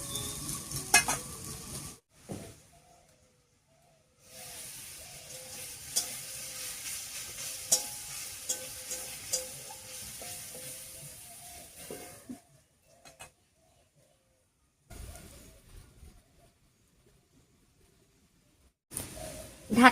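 Bottle gourd leaves cook covered in a pan, sounding as a soft intermittent sizzle with stirring scrapes and metal clinks, broken by quiet pauses and a few louder knocks.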